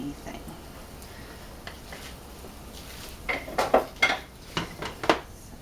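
A spatula scrapes and taps against a pan while pushing onions over pierogies, with a cluster of sharp metallic clinks and scrapes toward the end over a low background.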